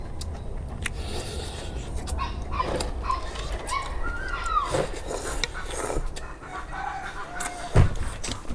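A rooster crows among other chickens, with clucking and a dog barking nearby; the calls are loud and close, layered over a busy outdoor background.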